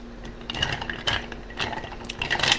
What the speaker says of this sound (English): I'm going to stir for 1 minute.